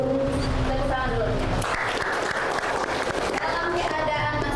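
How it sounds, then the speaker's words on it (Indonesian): An audience at a teacher training session claps together, a steady dense patter of hands that runs the whole short stretch at a fairly loud, even level, with voices mixed in. "Tepuk tangan dulu."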